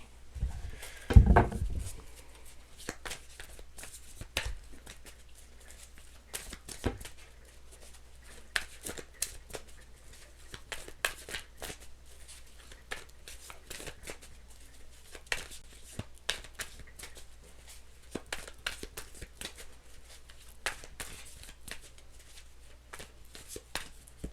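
A deck of tarot cards is shuffled by hand, repeated soft crisp riffles and slaps at irregular intervals, close and quiet over a faint low hum.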